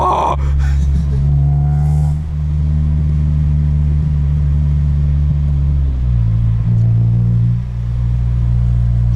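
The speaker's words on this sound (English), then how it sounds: "Heel toe rev match." A 2003 Honda Civic EX coupe with a manual gearbox and aftermarket exhaust drones steadily from inside the cabin, then its engine note shifts as the revs are blipped and matched, loud and close throughout.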